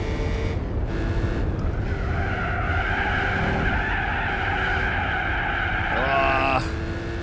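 Tyres squealing and skidding in the Gran Turismo 4 racing game, a sustained screech over a steady engine roar, rising sharply near the end.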